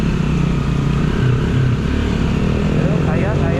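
A motor vehicle overtakes on a flooded road in Pampanga, with a steady loud engine drone and a rising rev near the end, while people talk over it.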